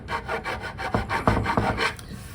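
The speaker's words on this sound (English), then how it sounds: "this transition ridge I'm working on right here, I'm just filing down with these" Burr sticks rasping along a wooden transition ridge while shaping a Maloof-style joint stool, a rhythmic series of about eight close, scratchy back-and-forth strokes with no talk.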